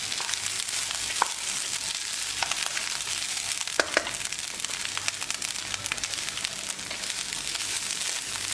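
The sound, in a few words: washed rice frying in oil in a pan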